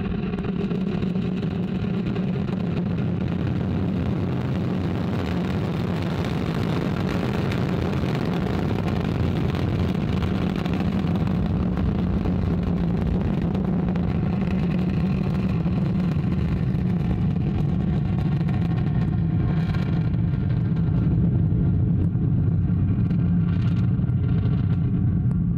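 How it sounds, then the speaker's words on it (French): An Ariane 5 rocket lifts off from French Guiana with a continuous deep, heavy rumbling roar, loud and distant, building slightly toward the end with crackling. "Ariane 5 beginning her mission, lifting off perfectly and beautifully from the ground here in French Guiana"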